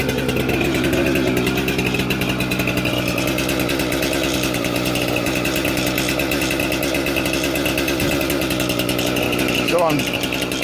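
A chainsaw engine drones steadily and loudly throughout while felling a back-leaning Bradford pear tree, with a person speaking underneath the continuous mechanical roar.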